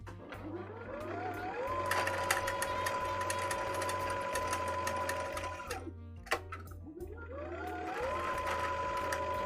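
Sewing machine winding bobbin thread, a close steady whine that climbs in pitch, holds, drops away briefly near the six-second mark, then spins up again.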